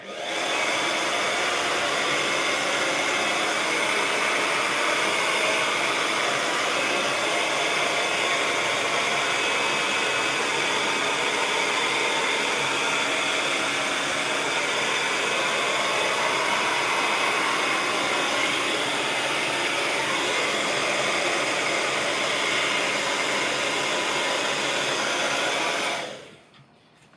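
A hair dryer blows steadily to dry paint on a canvas, loud, close and unbroken for nearly half a minute before it suddenly cuts off at the end.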